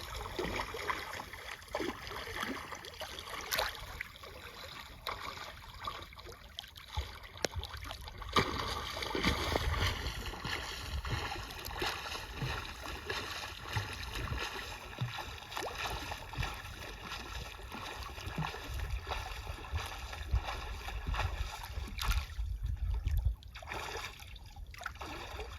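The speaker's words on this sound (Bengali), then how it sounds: "আমাদের ডুবুরি ভাই নৌকো আনতে যাচ্ছে।" A boat is brought along a river by a crew heading out to haul a beuti net for hilsa, with steady splashing and trickling water and a continuous broadband wash of hull movement close by.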